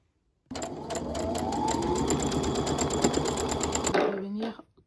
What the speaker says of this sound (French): je vais venir donc coudre tout autour à 1 cm